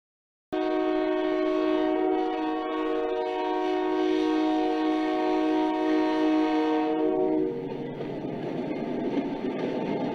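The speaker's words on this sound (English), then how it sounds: "The train receives permission to depart West Mill and heads north to Selkirk." A train horn blows one long, loud, steady blast in a train-driving video game as a coal train departs West Mill, then cuts off and leaves a rumbling rail noise.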